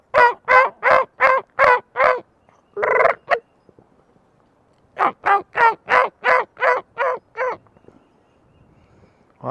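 Wild turkeys gobbling outdoors in spring, two loud close bursts of rapid rattling gobbles separated by a pause and a short single call, with quiet gaps between.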